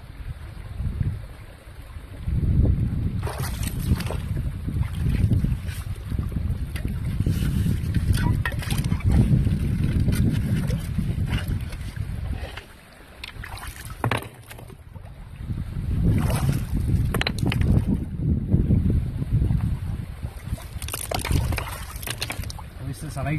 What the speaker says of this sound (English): It's a nice windy day today,